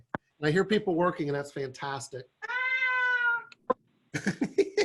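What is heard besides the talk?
cat meowing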